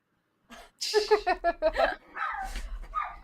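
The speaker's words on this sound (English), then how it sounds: "If you can hear the dogs, I'm sorry. They're the neighbor's dogs." Neighboring dogs bark in a quick burst of several close, loud yaps, followed by a short whimpering sound.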